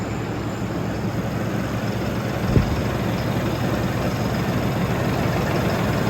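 A farm vehicle engine idling steadily in a cold barn after finally starting, a loud, even low rumble that runs throughout with one brief knock midway.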